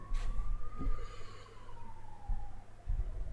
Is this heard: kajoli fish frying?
no